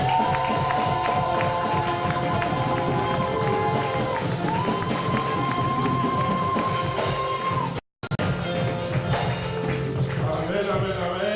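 A church congregation cheering and acclaiming during a worship service, a continuous mix of crowd voices, clapping and raised cheers, steady and loud throughout with a brief cut near the end.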